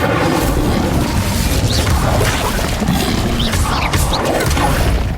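A fire spell cast in the fantasy video game Hogwarts Legacy roars with dense, loud crackling bursts and heavy booms that continue without pause against a busy battle mix, with no voices.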